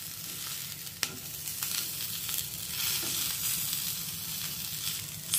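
Stuffed green chillies fry in a pan with a steady, soft sizzle throughout, broken by a single light click early on.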